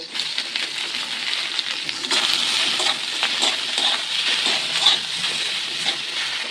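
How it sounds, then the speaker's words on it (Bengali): Boiled sushni greens frying with chopped onion and dried red chilli in a pan, giving a steady hissing sizzle with faint stirring scrapes throughout, fairly loud and close, with no talking. "এরপর সেদ্ধ করে রাখা শুশনি শাকটা দিয়ে ভেজে নেব"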